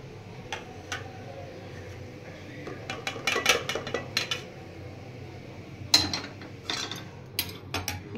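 A cooking pot of hilsa fish in mustard and yogurt sauce is handled at the stove, with scattered metallic clinks, scrapes and clatters of pot and utensils, close and irregular over a quiet background.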